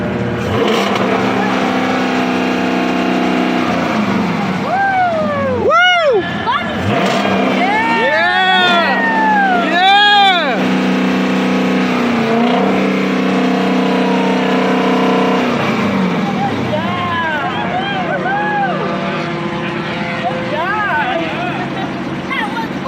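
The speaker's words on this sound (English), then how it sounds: "Now press the gas and rev it." A car engine is revved repeatedly with rising and falling pitch sweeps, several close bursts of throttle over a steady idle, while people talk nearby throughout.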